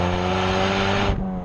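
Ford Mustang 2.3 EcoBoost in sport mode with an aftermarket exhaust, holding a loud, raspy, steady drone close by before the revs drop suddenly and the tone falls away near the end.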